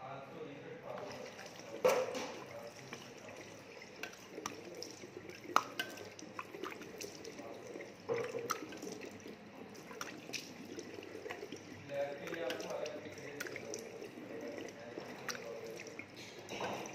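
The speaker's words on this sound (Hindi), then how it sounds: "मैं मुंह धो लेती हूँ अपना, ठीक है?" Water from a tap splashes and trickles as a face is washed, with irregular drips and splashes at close range running continuously for many seconds with no talking.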